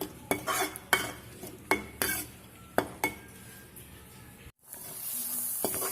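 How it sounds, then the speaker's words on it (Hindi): A metal spoon scrapes and clinks against a pan while stirring spiced masala being roasted for Kashmiri aloo dum, about eight sharp knocks and scrapes in loose rhythm, then a soft steady sizzle near the end. "बीच बीच में चलाते हुए ढककर इसको खूब अच्छी तरह से भूनेंगे"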